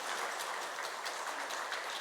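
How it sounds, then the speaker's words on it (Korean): Congregation at a Korean Sunday church service applauding to bless a visiting church member and her family, a soft, even patter of many hands heard from a distance, steady for about two seconds with no voices. "우리 함께 큰 박수로 축복하겠습니다"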